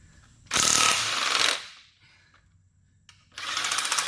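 An impact gun loosening big 17mm bolts on a Toyota Sienna AWD, with two loud, close hammering bursts of about a second each, separated by a short quiet gap.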